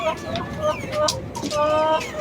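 Chickens cluck close up, with several overlapping, drawn-out tonal calls rising and falling one after another.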